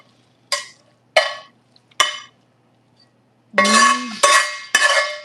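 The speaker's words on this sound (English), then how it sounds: "do you want to mix the onions in with this or put them on top?" Spatula scrapes and clinks against a pan while caramelized onions are mixed in, several sharp separate strikes followed by a louder run of stirring and clattering.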